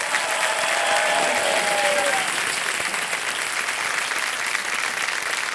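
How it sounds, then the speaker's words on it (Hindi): A studio audience on the quiz show Kaun Banega Crorepati applauds loudly for a contestant, a dense, even roar of clapping that holds steady from start to finish. "तालियां बज जाए इनके लिए बहुत जोर से"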